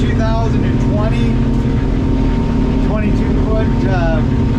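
A 2020 North River 22-foot fastback boat runs at speed with its engine roaring loud and constant, mixed with rushing water and wind, while short bursts of voice cut in over the steady drone.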